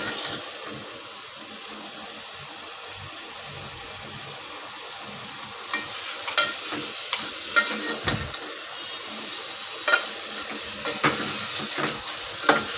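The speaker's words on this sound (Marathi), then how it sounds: "असं हलवून घ्या चांगलं." Mutton pieces coated in masala are stirred in a pan, a steady close sizzle with intermittent scraping and clinking of the spoon growing busier toward the end.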